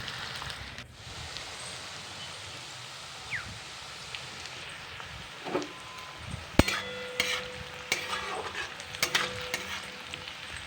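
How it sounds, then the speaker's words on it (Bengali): Onions being stirred and fried in a pan until brown and crisp for a Bengali-style mutton curry, a continuous soft sizzle with occasional clinks and scrapes of a utensil growing more frequent toward the end. "পুরো একদম বাদামি বর্ণের করে লাল লাল মুচমুচে করে পেঁয়াজগুলিকে ফ্রাই করে নিতে হবে"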